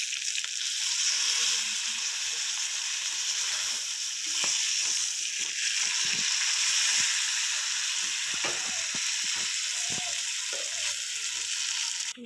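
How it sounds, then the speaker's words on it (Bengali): Fish head frying in oil in a wok, a steady dense sizzle that runs for the whole stretch, with a few soft clinks and stirring knocks scattered through it. "ভাজার পর মাছের মাথাটাকে ভেঙে দিলাম, যাতে ভিতরের অংশটা একটু ভালো করে ভাজা হয়ে যায়"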